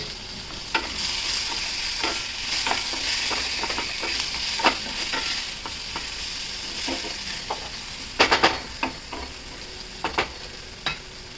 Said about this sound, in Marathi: बटाटा टाकून चांगला परतून घ्यायचा